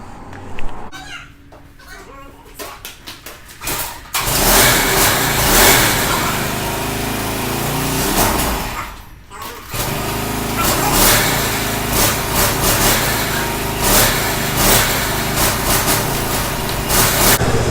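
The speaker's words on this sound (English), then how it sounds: "we're going to start up the go-kart, let the wheels idle and spin" A small go-kart engine starts with a brief low rumble, then settles into a loud, steady high-pitched running drone, which cuts out around nine seconds and resumes just as loudly, revving slightly.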